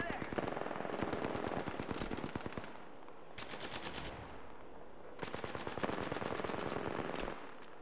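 Gunfire in the Apex Legends video game, rapid automatic bursts of shots in rhythmic strings with short pauses, loud and close, mixed with game effects.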